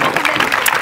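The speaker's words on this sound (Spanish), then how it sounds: "Y Margarita, un aplauso." Applause from an audience at a poetry reading, steady clapping filling the whole moment at a fairly loud level.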